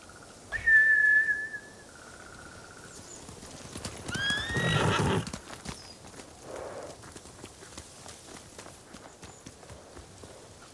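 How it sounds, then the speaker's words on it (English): Samurai horses in the Ghost of Tsushima video game clop along and neigh loudly, with a sharp whistle at the start and a burst of hoofbeats midway, followed by quieter footsteps. "They're samurai mounts, trained to return to their masters."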